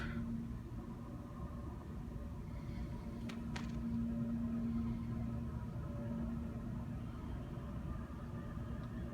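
Otis hydraulic elevator motor in an office building, a steady low hum and rumble running throughout, faint and distant, with a couple of brief clicks partway through.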